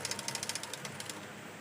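A sewing machine stitches a fold of velvet doll dress fabric in a quick run of rapid mechanical clicks. The clicking slows and fades out after about a second, faint and close.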